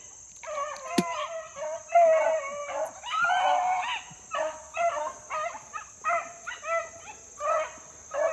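A hound pup bays in long, wavering, repeated howls, loud and close on a foggy morning, with a steady high whine running behind and no talking.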